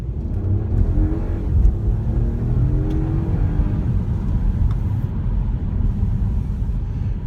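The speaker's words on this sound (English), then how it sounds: "Let's see how quickly it goes off the mark." A 2018 BMW 225xe iPerformance plug-in hybrid pulls away hard from a standstill, giving a steady close rumbling whir of motor and engine that holds strong for several seconds, with no talking.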